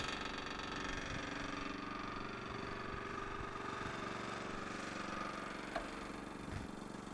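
A 2002 LeeBoy L150 engine runs at a steady idle-like drone while material is pumped from the lines back to the tank, a constant mechanical hum with a couple of faint clicks near the end.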